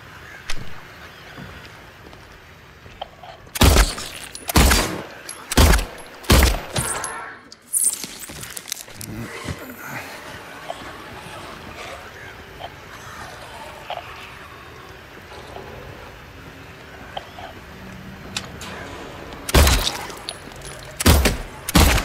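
Gunfire in the Silent Hill 2 Remake video game: a burst of loud, sharp shots in quick succession, a pause with quieter game ambience, then another cluster of three or four shots near the end.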